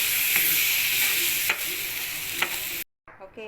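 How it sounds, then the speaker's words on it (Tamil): Carrot juice is poured into a hot pan for carrot laddu and hisses in a steady, bright sizzle, with a few spatula scrapes before the sound cuts off and faint handling noises follow. "இப்போ நான் வச்சுருக்கேன் இந்த கேரட் ஜூஸ் இதில் சேர்த்துக்க போகிறேன்"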